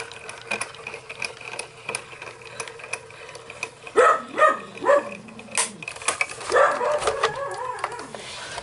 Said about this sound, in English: Apologize for my dog. She must be barking at the mailman or something.